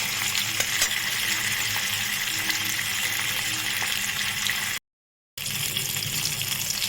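Mustard-seed, poppy-seed and spice paste frying in a pan for a sour-curd fish curry, giving a steady, close sizzle that runs without a break apart from a short moment of silence near the end.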